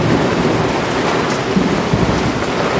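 Hailstones fall in a storm, hitting surfaces in a dense, loud, continuous patter that holds steady without pause and with no talk over it.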